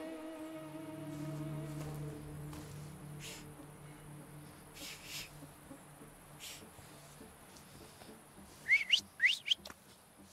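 A quiet, droning ambience from The Thaumaturge video game gives way near the end to a few short, rising whistle notes in quick succession.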